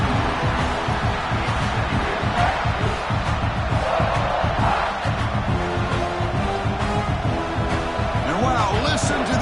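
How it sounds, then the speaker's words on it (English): A roaring college football stadium crowd at Nebraska versus South Carolina, loud and continuous, with cheers and shouts swelling over a dense rumble, voices mixed into the din. "listen to this crowd noise. This stadium is vibrating."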